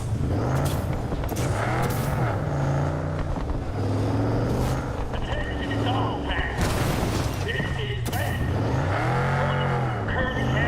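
Car driving in Cyberpunk 2077, engine revving and swelling through gear changes with a tire squeal or skid, loud and steady throughout with a person talking over it.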